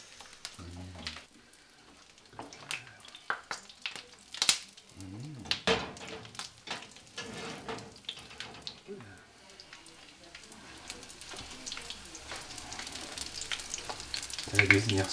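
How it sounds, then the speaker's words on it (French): Samosas frying in a pan of hot oil while cooking a Malagasy meal: a steady close sizzle and crackle that swells louder toward the end, with occasional stirring clatter. "les samoussas, la farce, on l'a fait cuire, etc. Et là, on refait une friture"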